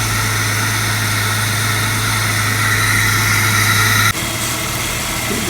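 Jeep WJ engine idling while warming up with the air filter off, a steady low drone held close for about four seconds before it abruptly drops off, leaving softer noise.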